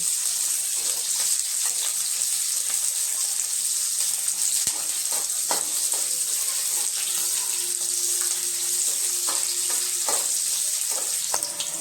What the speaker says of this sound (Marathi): आणि आता कांदा आपण थोडासा तेलामध्येच फ्राय करून घेऊ